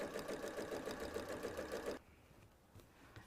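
A sewing machine back-stitches and sews sun hat fabric in a steady, close, rapid rhythmic whir that runs for about two seconds before stopping, leaving quiet room tone.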